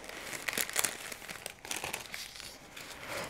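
A small sheet of nail art foil paper is crinkled close up, giving a quiet, uneven run of crisp rustling and crackling.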